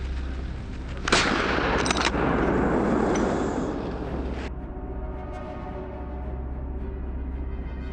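A hunting rifle fires at a wild boar in a forest, with sharp, loud reports cracking out over a continuous rumbling background before the noise drops to a quieter hum.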